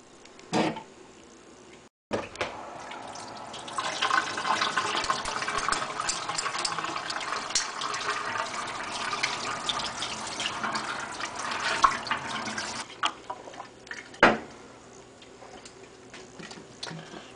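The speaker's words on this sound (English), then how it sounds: "take it over to the sink and just run some hot water over it" Hot tap water runs steadily into a sink for several seconds, then shuts off, followed by a couple of clunks.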